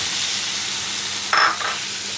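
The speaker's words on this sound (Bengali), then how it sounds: "এখন আমি আলুগুলো সব এর মধ্যে ঢেলে দেব" Potatoes tipped into a spice mixture frying in hot oil make a sudden, louder sizzling burst partway through, over a steady low background of frying.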